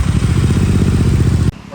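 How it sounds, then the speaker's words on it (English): An Interceptor 650 motorcycle engine running during an annual service, with a loud, close, steady pulsing thump that cuts off abruptly near the end. "Once you do that, you have to run the engine for a couple of minutes."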